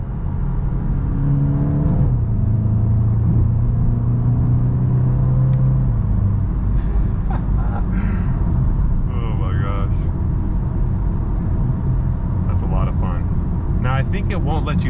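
A 2022 VW Golf GTI in sport drive mode, engine rumbling steadily with a rising then falling drone and occasional exhaust pops, heard from inside the cabin while a person talks over it.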